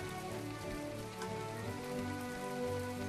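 Steady rain in the video game My Time at Portia patters continuously on surfaces, an even, dense hiss with no voices over it.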